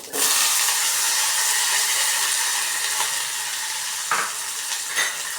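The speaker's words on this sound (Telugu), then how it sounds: "ఇవి కొద్దిగా మాత్రమే వేగనివ్వాలి ఎక్కువ వేగ అవసరం లేదు" Onions and cumin seeds fry in hot oil in a pan, giving a loud, steady sizzle that fills the whole stretch, with a brief stirring scrape near the end.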